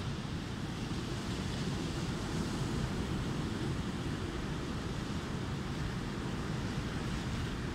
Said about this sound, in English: the sound of the ocean, that white noise of the waves, always coming and going